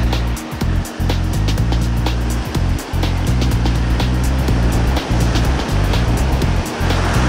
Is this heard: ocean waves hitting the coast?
yes